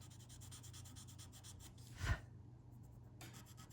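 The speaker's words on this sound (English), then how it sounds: "I'm just going to invite the white charcoal into the paper a little bit." White charcoal is worked into paper with a tortillon, a soft, close, rhythmic rubbing scratch that rises to one louder stroke midway before fading back to faint scraping, with no talking.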